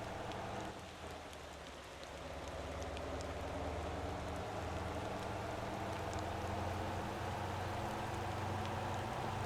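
Steady rain falls in the driving game Motor Town, a soft continuous hiss with a low rumble beneath it, quiet and even throughout with no talking.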